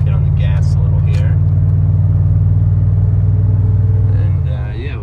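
Chevrolet Trailblazer SS engine pulling under acceleration, a loud steady low drone that eases off near the end, with a person talking over it.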